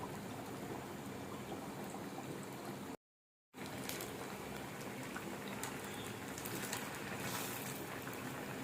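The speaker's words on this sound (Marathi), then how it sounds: "गोल्डन रंग होईपर्यंत फ्राय करायचे" Sabudana vada, tapioca pearl fritters, deep frying in hot oil make a dense, steady sizzle and bubbling close by. A split-second gap of silence breaks the sound partway through.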